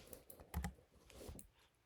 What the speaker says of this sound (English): If I try typing in folk dancing English